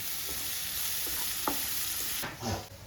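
Onions fry with a constant bright sizzle while a spoon scrapes and stirs them in the pan every so often, close up with no talking.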